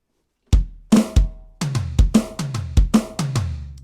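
Drum fill on a drum kit from the second chorus of a song, a rapid run of about nine sharp hits with snare cracks and booming toms ringing out, close and loud with no talking.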